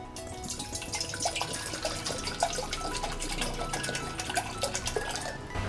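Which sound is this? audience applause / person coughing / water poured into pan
water poured into pan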